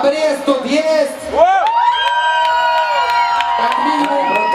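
A crowd at a drift event in Pinsk cheers and whoops loudly in a brief burst, with shouts rising above the noise and a few claps mixed in.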